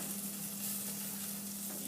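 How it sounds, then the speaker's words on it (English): Beef steak sizzling on burning oak wood staves, a steady, close crackling hiss with a faint low hum beneath, continuous and without talk. "you can just hear that sizzle"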